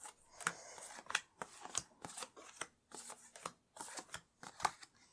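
Tarot cards set down one after another on a table, a run of crisp, close slaps and soft shuffling snaps in an uneven rhythm with no talking.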